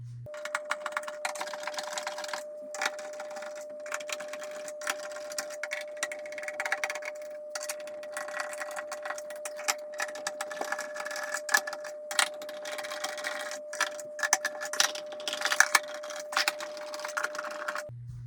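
Screws being backed out of a Proton Pack prop, with clicky ratcheting and plastic tapping bursts over a steady hum, close and moderately quiet.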